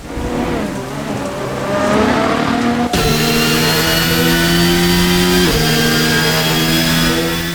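Formula 1 cars at the 2024 Bahrain Grand Prix scream past, high whining engines rising and shifting pitch as they close and pull away, loud and continuous with one car following another.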